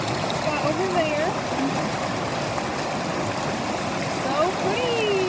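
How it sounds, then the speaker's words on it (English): Rushing water from a waterfall in Tampico, Mexico forms a steady, continuous broadband roar for the whole span, with a person talking over it throughout. "Hopefully you guys can hear me over the water."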